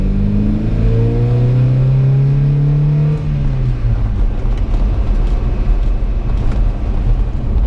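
A 1986 Toyota pickup truck pulls hard in second gear, its engine droning loud and close as the pitch rises steadily, then settles into a rumbling roar as the revs level off.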